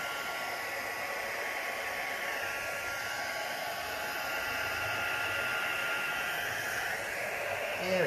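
A continuous, even rush of blown air from a small dryer-like blower moving alcohol inks across a shimmery resin coaster, steady and fairly close with no break, and no talking.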